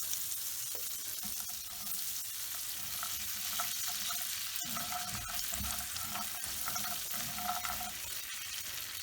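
Butter melts and sizzles in a warm pan as a steady frying hiss, with faint scraping stirs scattered throughout. Moderate and close, with no talk.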